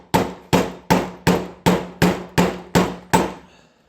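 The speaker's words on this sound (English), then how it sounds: "Using a screw and a center punch and a hammer as a center punch" Nine evenly spaced, sharp hammer blows strike a screw being used as a center punch to mark a spot on a custom Miata hardtop bracket, each impact loud and close with a short ringing decay, and no other sound between them.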